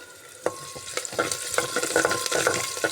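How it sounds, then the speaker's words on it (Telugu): Tempering spices crackle and sizzle in hot oil for a Telugu broken moong-and-rice upma, with a steady hiss, scattered sharp pops and a few spoon scrapes against the pan. No one speaks. "తాలింపు వేగుతుందో చూడండి"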